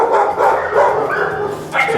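Dogs at an animal shelter bark and yelp in short bursts, fairly close, with a busy indoor murmur and some voices underneath.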